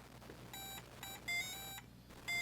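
A Game & Watch Mario's Cement Factory handheld beeps out a tune as a string of short, evenly spaced electronic tones in a few bursts, quiet and alone.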